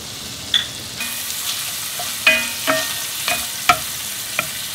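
Pork sizzles steadily in two tablespoons of butter over medium-high heat in a pan for Korean-style curry rice, with a loud continuous frying hiss and several sharp clacks of a utensil stirring and scraping close by.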